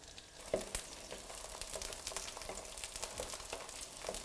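Sea bream fillets fry in a hot pan, crackling and spitting steadily with sharp pops scattered through a constant soft sizzle, heard close but quiet, with no talk.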